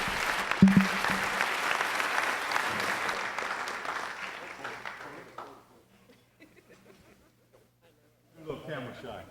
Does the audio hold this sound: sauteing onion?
no